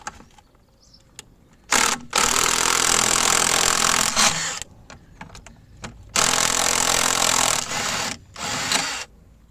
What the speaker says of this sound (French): pour enlever l'attache, il faut que tu dévisses cette vis là